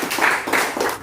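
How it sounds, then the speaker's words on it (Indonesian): Brief burst of audience clapping at a gathering, three quick swells of hands applauding close by, loud and short. "tepuk tangan buat anak muda kita ya"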